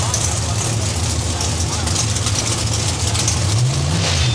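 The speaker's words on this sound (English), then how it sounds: "Norm Wisner and the thundering 57 Mega Ford." A 1957 Ford Mega Ford drag racing car engine rumbles loud and steady at a nitrous outlaws drag strip, a continuous low roar with a rising rev near the end, under an announcer's voice.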